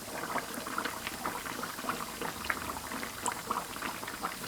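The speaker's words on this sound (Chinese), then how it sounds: "油温达到5成热，下入生坯" Sugar cake dough sizzles and bubbles as it deep-fries in hot oil, a dense, steady crackle of popping bubbles held at a moderate level close up.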